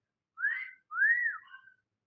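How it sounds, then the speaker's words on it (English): A person whistles two clear, rising-and-falling tones in quick succession, the second longer and sliding, close to the listener and alone with no talk. "Let me see if I could whistle"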